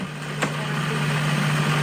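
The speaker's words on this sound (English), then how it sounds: "And I'm gonna put it all in a food processor." A food processor blends a meat mixture with fresh dill, its motor giving a steady, even hum at moderate level for the whole stretch, with no talking.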